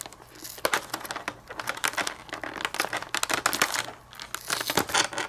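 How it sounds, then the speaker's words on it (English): Adhesive tape being pulled and peeled off the packaging of an ANA Star Wars livery Boeing 787-9 model airplane, a close series of crinkling rips and crackles in bursts with short pauses. "Let's see if I can get this tape out of here."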